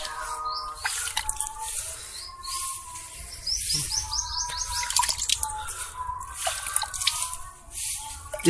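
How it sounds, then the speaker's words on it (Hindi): Water sprinkled by hand over soil covering freshly planted marigold seeds, giving soft irregular drips and splashes close by, with bird chirps in the background. "अब इसके ऊपर हल्का सा पानी आपको छिड़काव करना है इस तरह से,"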